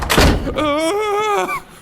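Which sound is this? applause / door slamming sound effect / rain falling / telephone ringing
door slamming sound effect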